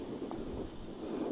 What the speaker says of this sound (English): It's been really windy today and kind of chilly as well.